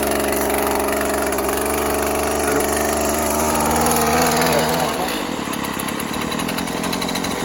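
A Husqvarna brush cutter engine runs loud and close with a steady buzzing drone, then drops in pitch and settles toward an idle near the end.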